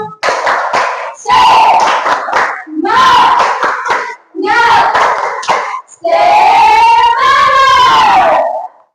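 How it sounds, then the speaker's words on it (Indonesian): Children repeat the 'tepuk semangat' routine together, loud shouted chanting broken up by sharp, rhythmic group claps across several short phrases, finishing with a sustained rising cheer. "Kita ulang lagi tepuk semangat."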